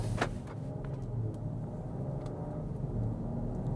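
A BMW X5 xDrive40i engine hums steadily while driving at night in Comfort mode, a low rumble with faint road noise and a few small clicks, moderately quiet throughout.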